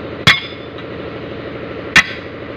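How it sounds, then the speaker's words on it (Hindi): Two sharp metallic hammer blows ring out about a second and a half apart while loosening a dumper truck tyre at a tyre shop, over a low steady background hum. "इसी तरह ठोक के खुलना पड़ता है।"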